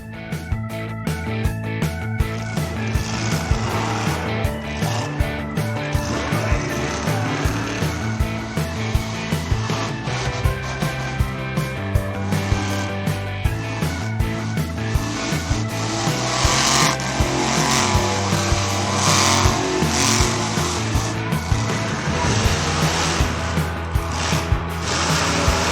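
A green toy monster truck drives with a loud, busy buzz of motor and wheel noise, rhythmic ticking clatter over a continuous engine-like drone, close and steady throughout.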